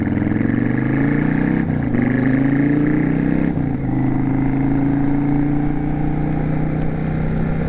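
A carbureted 2007 Yamaha V Star 650 Classic cruiser motorcycle being ridden, its engine droning loud and steady with a couple of brief dips as gears shift, then pulling on at a constant pace.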